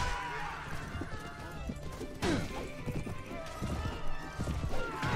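Horse hooves pound at a gallop in the Mount & Blade Warband video game, a steady rapid clatter mixed with battle crashes and thumps, fairly loud and close throughout.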